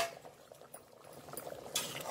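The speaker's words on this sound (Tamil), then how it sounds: "பாருங்க நல்லா தண்ணி கொதிச்சிச்சு." Water bubbling at a rolling boil in an open pot on the stove while vegetable biryani is being made, a faint steady simmer with a lid clink near the end.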